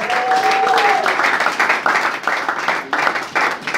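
A church congregation claps and cheers in acclaim of Jesus, a dense, steady wash of applause filling the room, with a voice rising briefly over it near the start.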